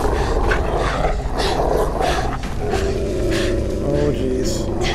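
Dogs growling and snarling in the Beyond: Two Souls game, a continuous close, rough growl with bursts of snarls while a person talks over it.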